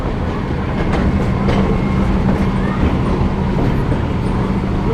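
RDC diesel railcars idling in a siding with their motors running, a loud, steady low rumble with a constant hum and faint clatter throughout, close by and unbroken.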